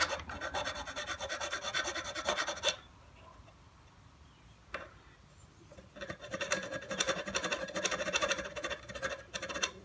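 A hand file scrapes burrs off a lower unit part of a 1962 Johnson 10 hp outboard motor, with rapid rhythmic rasping strokes close by, a pause with one knock, then more filing.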